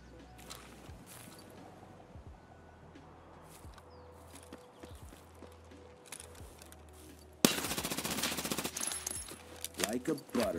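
Gunfire in the shooter game Escape From Tarkov: scattered distant shots and footsteps early on, then a loud burst of rapid automatic fire near the end, with faint talk underneath.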